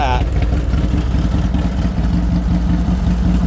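A 1984 Harley-Davidson FLT motorcycle engine idles with a loud, lumpy, steady low rumble close by, running continuously throughout after a brief sound at the start.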